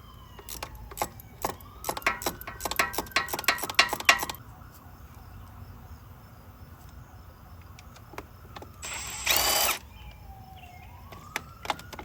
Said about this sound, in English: the top one you got to get at with a wrench